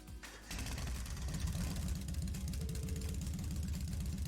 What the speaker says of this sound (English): I'm going to start up the engine now